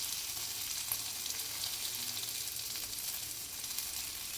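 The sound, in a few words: vegetables frying in a pan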